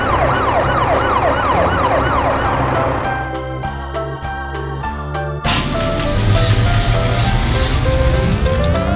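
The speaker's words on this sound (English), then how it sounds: "The police cruiser has lights and sirens." A loud wailing police car siren sweeps up and down rapidly, then shifts pattern and cuts into a harsher, blaring tone, close and continuous.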